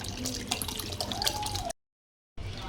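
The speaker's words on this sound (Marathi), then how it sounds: "अशा प्रकारे पाणी ड्रेनेज करून चांगलं पाणी निथळून द्यायचं." Hot water drains from boiled vermicelli for falooda, a continuous splashing trickle into a sink, close and steady, then a brief silence and a short resumption.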